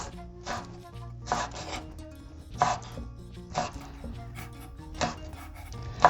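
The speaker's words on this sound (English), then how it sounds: "Then fresh Thai chili, cut into small pieces." Fresh Thai chili being chopped into small pieces on a cutting board for a Thai glass noodle salad, a steady series of close, crisp knife knocks, about two per second, with no talk.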